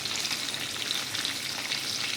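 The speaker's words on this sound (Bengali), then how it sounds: "এবার মাছগুলোকে আমি ভেজে নেব।" Fish, small parshe, sizzle and spit in a kadai of very hot mustard oil, a dense steady crackling frying sound heard close and alone.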